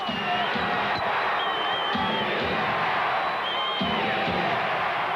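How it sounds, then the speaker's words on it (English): An arena crowd chants defense at a Utah Jazz home game against the Nuggets, a loud rhythmic roar with repeating two-beat surges, and dense crowd noise throughout with voices and whoops mixed in. "Crowd chanting defense."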